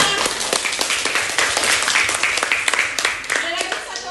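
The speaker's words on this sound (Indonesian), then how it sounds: "Kasih tepuk tangan." A classroom group claps together in a dense burst of applause lasting a few seconds, close and fairly loud, with voices mixed in.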